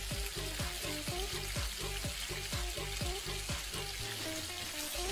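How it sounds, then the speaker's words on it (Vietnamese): Chicken drumsticks frying at a street food stall give a continuous close sizzle, with rhythmic clattering and stirring strokes running through it. "Tiểu Phàm bắt đầu bán đùi gà rán"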